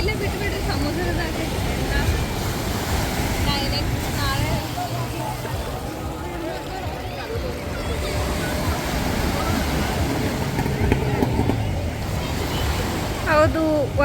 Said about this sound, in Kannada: ಲೈಕ್ ಓಷನ್ದು ವೇವ್ಸ್ ಅದು ಸೌಂಡ್ ಕೇಳಕ್ಕೆ ಪೀಸ್ ಅನ್ಸತೈತೆ ನನಗರಿ